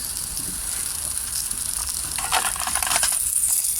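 Hot oil sizzling in a pan on a Bushbox stove outdoors, a steady crackling hiss that grows denser and louder toward the end, with no talk over it.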